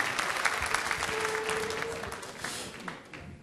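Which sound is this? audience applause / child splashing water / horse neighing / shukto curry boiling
audience applause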